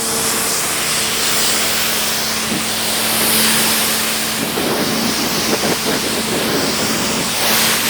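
A steady, close spray of water rinses soap off a car's paint, a broad continuous hiss with a low mechanical hum running underneath for the whole stretch and no talking.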